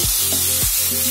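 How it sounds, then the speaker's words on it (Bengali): Mixed vegetables with ginger and green chilli sautéing in a pan for a vegetarian navratan korma: a steady, close hiss of frying with soft stirring scrapes, no talk. "মাখানো সবজিগুলো আমি সব ঢেলে দেবো। হালকা হালকা কষে নেবো।"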